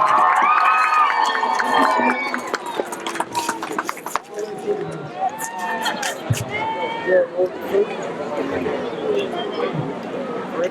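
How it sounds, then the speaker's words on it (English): A crowd at a high school state football championship game applauds and cheers for the band in loud, fluctuating bursts of clapping and voices, with chatter and shouts mixed in. "give all these seniors a big round of applause for the band."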